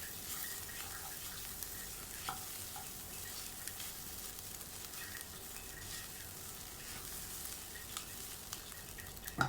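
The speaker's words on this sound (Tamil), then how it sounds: "நல்லா சுருண்டு வதங்கி நம்ம இந்த மாதிரி மிக்ஸ் பண்ணுறப்போ ஒரு கிறிஸ்பியாக ஒரு சவுண்டு ஒன்று வரும்." Kerala-style squid thoran with pepper and garam masala is stir-fried in a pan, giving a quiet, steady crisp sizzle with soft scraping from mixing, with no talk over it.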